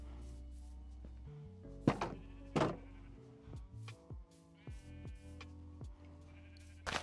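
Sheep bleat in the video game Minecraft, several separate bleats at varied pitches over a quiet background, with a few soft thunks between them.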